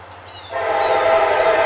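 A CSX freight train sounds its horn at a railside spot in Woodbourne, Pennsylvania, the loud sustained blast starting abruptly after a brief rumble and holding steady.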